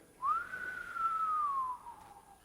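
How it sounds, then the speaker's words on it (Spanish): A single gentle whistle rises quickly, then holds a long, soft, slightly falling tone for about a second and a half before fading, alone against faint background hiss. "un silbido apacible."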